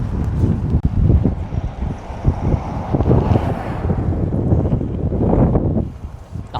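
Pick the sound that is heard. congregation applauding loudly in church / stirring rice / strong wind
strong wind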